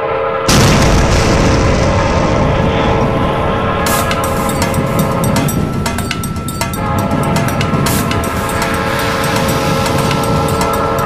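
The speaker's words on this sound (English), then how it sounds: "she throws it toward these barrels and it explodes, forcing the track to explode" Barrels explode and blow up a train track, giving a loud, close boom followed by a sustained roaring rumble with bursts and crackles over several seconds.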